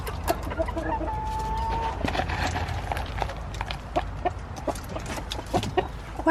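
Pet rooster clucking in a backyard chicken run as treats are handed out, a busy mix of short clucks and scratching sounds at close range, with no talking.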